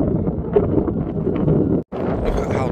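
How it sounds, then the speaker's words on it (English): Strong wind buffeting the microphone on a stormy seaside clifftop beside a parked van, a loud roaring rumble that briefly cuts out before gusting back in. "It's kind of windy, so be careful."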